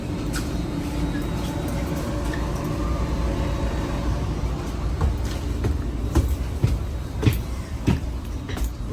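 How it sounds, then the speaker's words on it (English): Caltrain northbound local train 141 at Menlo Park station on a hot afternoon, a steady rumbling rail roar with rattling car noise and faint clicks building toward the end, close and continuous throughout. "This is northbound local train 141 making all stops to San Francisco."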